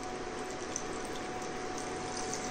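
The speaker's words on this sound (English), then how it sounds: "Now we are going to add water" Water poured into a moong dal khichadi mixture of rice, dal and masala in a pot, a steady continuous gushing pour lasting the whole stretch at moderate loudness, with no talk.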